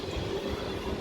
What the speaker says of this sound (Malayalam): ട്രെയിൻ വരുന്നുണ്ട്, മെട്രോ ട്രെയിൻ.